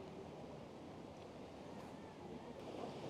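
Sea surf washing steadily at Port Isaac in Cornwall, a broad continuous wash with some wind noise across the microphone, heard outdoors with no distinct talk.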